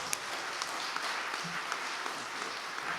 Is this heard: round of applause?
yes